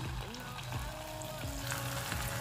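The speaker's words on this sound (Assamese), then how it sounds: "এতিয়া মই হালধি দিয়াকেইটা হালধি যে দিছিলোঁ সেইকেইটা এতিয়া বনাম এতিয়া তেলত দি দিম" Salted pitha made from bora rice, with turmeric, frying in hot oil: a steady sizzle with soft bubbling runs throughout, mixed with faint gliding tones.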